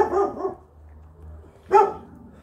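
A dog in a yard in Lazarevskoye gives a couple of close barks, a double bark at the start and another after a short pause.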